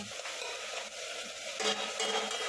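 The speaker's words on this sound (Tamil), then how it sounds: "இறங்கினதுக்கப்புறமா கரண்டி அப்படியே கிண்டி விட்டோம்னா" A ladle stirs a village-style tomato fish curry in a pot, giving a steady wet sizzling hiss with soft scraping that swells slightly toward the end, with no talking.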